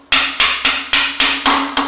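A hammer taps an MGB engine part into its seat during an engine rebuild, seven sharp metallic strikes in a steady rhythm, close and loud with a brief ringing decay after each.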